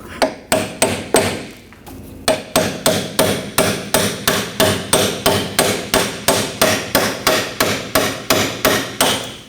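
A hammer strikes a bolt into the rear upper control arm of a 2014-2020 Nissan Rogue: about twenty sharp metallic taps in a fast, even rhythm, loud and close after a short pause near the start.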